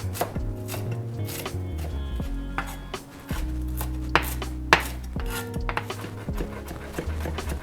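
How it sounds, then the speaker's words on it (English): Fresh herbs being finely chopped with a knife on a board for a garlic herb butter sauce: a run of quick, crisp cutting taps, steady and close, over a continuous bed of background music. "to do that we will finely chop our herbs"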